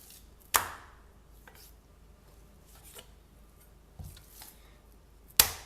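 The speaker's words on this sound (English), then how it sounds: "The first thing we're going to want to do is to trim off some of the fat." A knife trims fat off beef in a few sharp, isolated cuts, two louder strokes and some softer ones, close and quiet with no talking.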